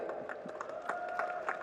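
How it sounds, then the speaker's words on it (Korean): An audience applauds an actress at a film festival open talk event. The clapping is moderate and steady, mixed with faint cheering and a sustained tone underneath. "우리 정영주 배우님께도 박수 한번 부탁드릴게요."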